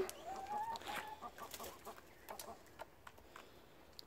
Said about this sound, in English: Oh, too many Chooks.